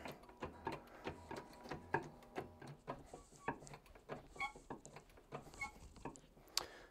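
Hand pump of a 20-ton hydraulic press being worked to close shot plate dies for stud earrings, giving a steady run of sharp mechanical clicks and thumps at a quick, even rhythm, fairly faint and up close, with no talking.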